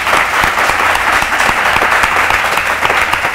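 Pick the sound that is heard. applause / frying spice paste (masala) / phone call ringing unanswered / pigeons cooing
applause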